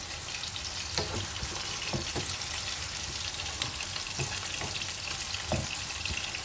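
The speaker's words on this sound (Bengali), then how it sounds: "এখানে দেখো পেঁয়াজটা প্রায় অনেকটাই ভাজা হয়ে এসছে, তবে আরও আমাকে আরেকটু লাল করতে হবে।" Onions frying in a pan for a Bihari-style chicken curry, a steady sizzle with occasional soft stirring knocks and no voices.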